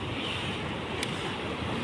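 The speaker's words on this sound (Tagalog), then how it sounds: "Padungganin nyo guys ang balud." Steady broadband surf washes along the Davao coastal road, a continuous roar of sea waves mixed with wind, with no voices over it.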